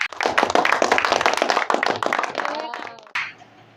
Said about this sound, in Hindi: तो इनका स्वागत करते हैं तालियों के साथ